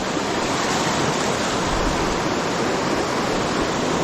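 A riverbank stream rushes past in a dense, constant wash of flowing water, loud and close, with no other sounds standing out.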